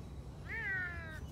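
A Savannah cat, a domestic cat crossed with a wild African serval, gives a single clear, drawn-out meow that rises and then slowly falls, close by over a quiet indoor background.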